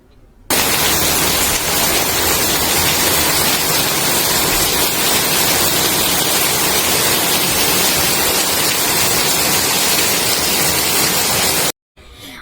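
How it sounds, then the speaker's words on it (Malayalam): Heavy monsoon rain pours down in a dense, unbroken hiss that starts abruptly and holds at an even, loud level for about eleven seconds before cutting off, with no voices. "മഴയുടെ സൗണ്ടിന് പോലെ എന്തോ ഒരു കലാഭംഗി ഉണ്ടല്ലേ"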